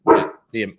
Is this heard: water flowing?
no